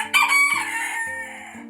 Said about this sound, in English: Here's some of the chickens.